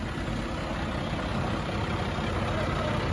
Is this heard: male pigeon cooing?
no